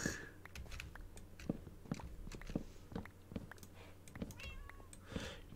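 A cat meows close by over intermittent computer keyboard typing, short clicky taps scattered throughout at a quiet level.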